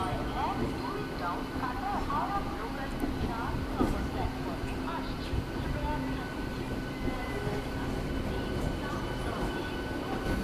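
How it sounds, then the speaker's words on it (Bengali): Bandel–Bardhaman local train pulling away from platform 3 at Bandel station, a low steady rumble with faint rhythmic clatter, fairly quiet and even, with indistinct voices murmuring in the background. "একেবারে অন টাইমে ব্যান্ডেল স্টেশনের 3 নম্বর প্ল্যাটফর্ম থেকে আজকে আমাদের ব্যান্ডেল বর্ধমান লোকাল ছেড়ে দিল।"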